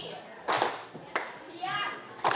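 A group of adults claps along in a call-and-response morning clap game at a school session, with three sharp bursts of collective clapping spaced apart and voices calling out between them.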